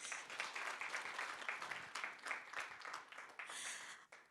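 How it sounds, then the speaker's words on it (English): Audience at an awards ceremony for an innovation competition breaks into warm applause, moderately distant and continuous for a few seconds before it tapers off. "A round of applause for that,"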